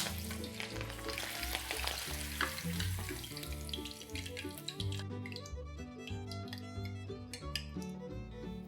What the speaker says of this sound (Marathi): चमचमीत मिरची फ्राय करून घेऊया